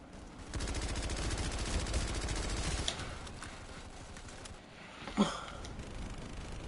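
Automatic gunfire in Planetside 2: a rapid continuous burst for a couple of seconds, then a quieter stretch of fainter fire and one sharp louder shot near the end.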